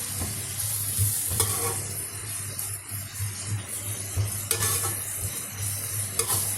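Chicken gravy masala sizzles steadily in a pan while being sautéed toward golden, with scattered scraping strokes of a spoon across the metal under a constant low hum.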